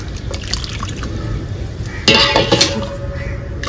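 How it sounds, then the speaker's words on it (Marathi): A glass of water is poured in a home kitchen while cucumber vada batter is made with flour, cumin and turmeric, with a soft liquid trickle and then a brief burst of sharp glass and utensil clinks. "एक ग्लास पाणी घेतले."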